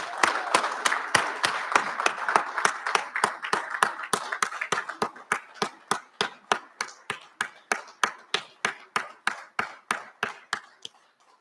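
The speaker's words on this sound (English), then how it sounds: "give them a rousing" Faculty and staff clap for graduates at a recognition ceremony, sharp claps falling into a steady unison rhythm that starts dense and thins to slower, spaced beats, with no talk over them.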